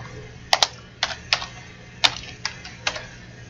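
Typing a group name on a computer keyboard: a handful of crisp, close key clicks in short irregular bursts over a quiet room background.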